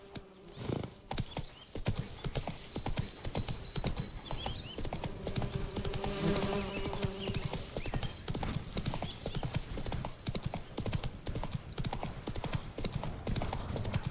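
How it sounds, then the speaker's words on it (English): A horse gallops in The Witcher 3 video game, hooves pounding in a fast continuous rhythm, close and loud, with a whinny partway through and ambient game sound beneath. "Run, Roach."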